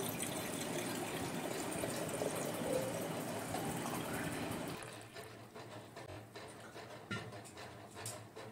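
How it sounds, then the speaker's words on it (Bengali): Water poured from a vessel onto offerings during a home Hindu puja for Akshaya Tritiya, with mango leaves, betel leaf and a brass pot, a steady close pour for several seconds that stops and leaves faint quieter handling sounds. "এই যে জল দিয়ে দিচ্ছি"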